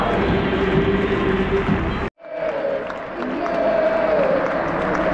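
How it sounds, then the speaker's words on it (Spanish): At Camp Nou, a huge stadium crowd roars an ovation for Piqué on his farewell, a dense, sustained wall of cheering and clapping that is briefly cut off and then swells back. "Escuchen la ovación a Piqué."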